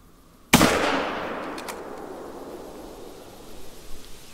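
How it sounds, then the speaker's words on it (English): A single loud rifle shot at an animal in theHunter: Call of the Wild, a sharp crack followed by a long rolling echo that fades over several seconds in open terrain. "I shot that thing in the chest."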